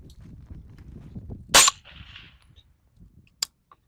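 Suppressed shots from a 9mm pistol caliber carbine: one loud sharp crack near the middle with a brief ringing tail, then a second shorter report about two seconds later, over low rumbling background.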